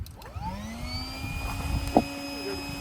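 An electric air pump inflates an inflatable Seapro fishing boat, its whine spinning up and holding a steady tone over faint background noise.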